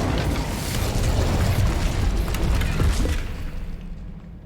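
An Incendio fire spell bursts out in Hogwarts Legacy, a broad whooshing roar with crackling texture that holds for about three seconds, then thins and fades away.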